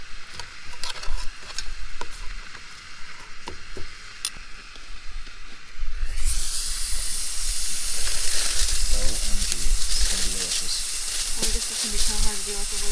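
Steak hitting a hot pan at a campsite, a faint crackle with a few ticks before a loud hissing sizzle bursts in and holds steadily, with some talk beneath.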